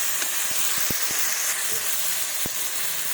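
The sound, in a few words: spices added to sizzling pan for fish curry with eggplant and tomato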